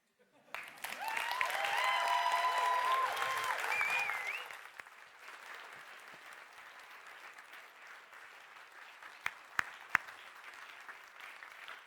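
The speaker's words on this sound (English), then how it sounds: "Richly deserved applause there for Arwen Borthwick-Hunter." Applause from an audience swells for about four seconds, then fades to a quieter hum with a few scattered claps.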